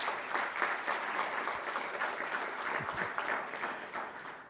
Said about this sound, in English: So please give them a hearty round of applause.